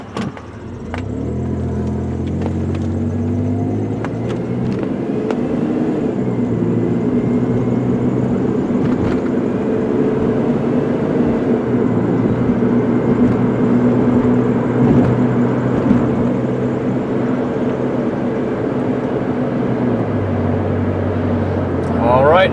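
A 1999 Plymouth Voyager minivan's engine runs steadily while driving, a continuous close drone with shifting harmonic tones as it climbs toward highway speed, and no talk over it.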